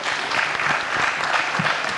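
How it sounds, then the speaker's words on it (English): A conference audience applauds warmly, a dense and even wash of many hands clapping at close range that continues without a break, with no talk heard. "give a round of applause to our colleagues"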